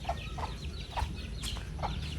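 Gamefowl chickens at a breeding area cluck and call in short repeated bursts, close by, over a low steady background rumble.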